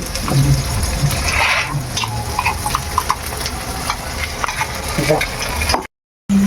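A mix of chopped onion, tomato and spices goes into a cooking pot on a village picnic, giving a rattling, stirring sizzle with scattered knocks, loud and close. Voices talk underneath, and there is a short gap of silence near the end.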